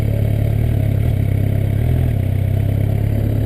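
A motorcycle idles and creeps around a parking lot without throttle, its mid-pitched engine putting out a steady, close, rhythmic chugging throughout.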